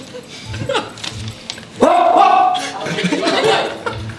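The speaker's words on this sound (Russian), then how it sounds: "Ну, она лает в камеру" A dog barks at the camera in a video played back on a device, a sharp bark rising loud over low room noise, with people talking around it.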